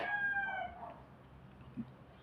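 A fighting cock crows faintly at a backyard in the Philippines, one drawn-out crow fading away, followed by a soft cluck against quiet outdoor background.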